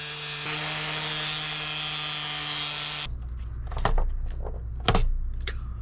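Bolts being cut down with a spark-throwing power tool, a loud sustained high grinding whine for about three seconds, then a lower rumble with a few sharp scraping bursts.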